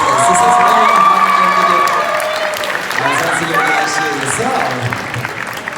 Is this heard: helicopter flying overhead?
no